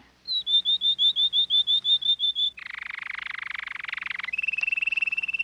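A cartoon character imitates a singing canary with a quick run of about a dozen high, evenly spaced chirps. A steady, buzzy warbling trill follows, loud and close.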